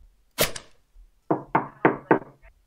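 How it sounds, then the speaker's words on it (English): A run of four sharp knocks on a door, evenly spaced and fairly close, follows a louder thump, with no talking. "Also, someone's knocking on my door"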